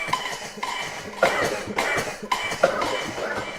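A person coughs in a rhythmic run of about five sharp, fairly close bursts, with brief pauses between them and no speech.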